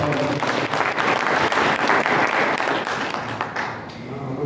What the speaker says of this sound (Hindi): जोरदार तालियों से एक बार